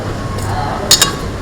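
Two quick, bright clinks of a utensil against a bowl while paneer wrap filling is mixed, close and fairly clear over a low steady kitchen hum.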